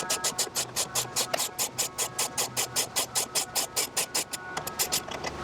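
A tool working the outer toe rod bolt on a 2004–2007 Cadillac CTS-V, heard as a fast, even series of loud rattling bursts, close up and regular, continuing for several seconds before slowing and stopping.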